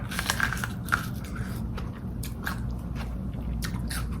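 Someone bites into an ear of boiled corn on the cob, working along it row by row, giving repeated close, moist crunching bites over a steady low background hum.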